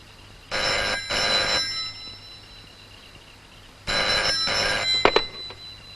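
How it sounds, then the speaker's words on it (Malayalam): A telephone rings loudly nearby in a Malayalam film scene: two bursts of paired bell rings separated by a pause, with a sharp clack at the end of the second burst. "ഇത് മഹേന്ദ്രവർമ്മയുടെ ഫോണാണെങ്കിൽ നീ സംസാരിക്കാതിരിക്കാൻ നല്ലത്"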